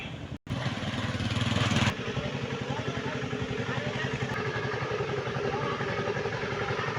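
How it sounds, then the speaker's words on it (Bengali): A large motorized boat passes on a river beside a duck farm, its engine chugging in a steady, rapid pulsing drone that stays close and fairly loud throughout, after a brief dropout near the start. "একটি নৌকা যাইতেছে, বড় নৌকা,"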